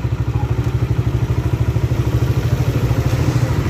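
A tractor engine chugs loudly and close in fast, even pulses at a concrete worksite, its steady rhythmic thumping and rattling running throughout with no talking.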